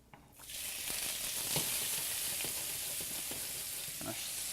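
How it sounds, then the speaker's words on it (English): Shrimp sautéing in melted butter in a pan for lemon pepper shrimp scampi, giving a steady, close sizzle and crackle with occasional soft stirring clicks, no talking over it. "Okay, so now we're ready to begin sauteing our shrimp."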